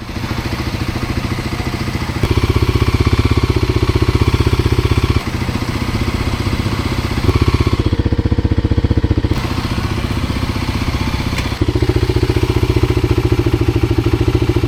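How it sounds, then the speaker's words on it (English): A Kawasaki KLX300 dirt bike with a modified exhaust and flashed ECU idles with a loud, close, chugging rumble, rising in several short revs and dropping back to idle between them. "So here are some clips so you can compare the exhaust sound."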